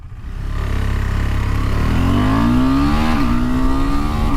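A KTM 390 Adventure motorcycle engine runs loud and close, idling briefly before revving up with a rising, climbing whine that holds at high pitch with a slight dip near the end.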